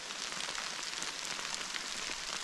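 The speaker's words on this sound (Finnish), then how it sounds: "alkoi muuten sataa rakeitakin tässä" Dense steady patter of small hail striking surfaces outdoors near a lakeshore, a continuous bright crackling hiss with no gaps, fairly close and uniform throughout.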